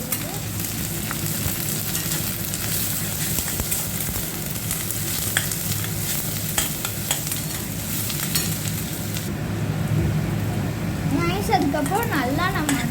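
Onions and chillies for an egg poriyal sizzle steadily in a hot oiled pan while a spoon stirs and scrapes through them, a continuous crackling fry with occasional clinks, and someone speaks over it.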